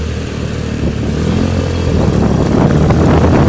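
RUSI Sigma 250 motorcycle engine running close by, a steady low rumble that swells louder and rougher as it revs up.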